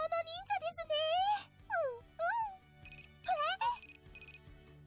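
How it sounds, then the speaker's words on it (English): A bright, melodic electronic alarm rings in rapid warbling chirps and beeping bursts, loud and close, over a faint low background hum. "Sound of an alarm startles her and she looks at the clock."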